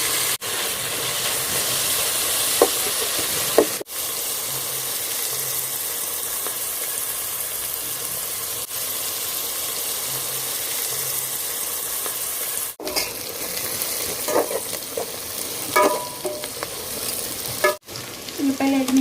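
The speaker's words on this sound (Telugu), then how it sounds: "ఈ ఉల్లిపాయలు అవన్నీ బ్రౌన్ కలర్కి వచ్చే వరకు కలుపుతూ వేగనివ్వాలి." Onions stirred and frying in a pan until brown for chicken biryani: steady close sizzle with scraping spoon strokes, short breaks, and a few louder stirring clatters near the end.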